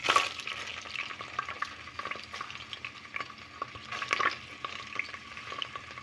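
Onion fries over high heat in hot ghee and is stirred with a spoon, so a soft continuous sizzle carries quick scraping clacks against the pan.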